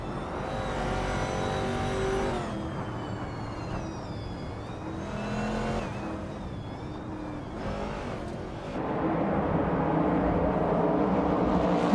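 Racing cars with Camaro engines roar in a racing video game, a steady loud engine drone with rising and falling pitch sweeps as cars shift and pass, continuous and close throughout.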